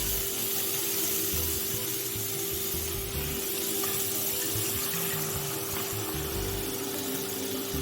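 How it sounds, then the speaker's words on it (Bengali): Milk pours steadily into fried pumpkin in a pan for a sweet pumpkin payesh, a continuous, even liquid rush with a faint constant hum underneath, no pauses. "এবার আমি দুধটা দিয়ে দেবো"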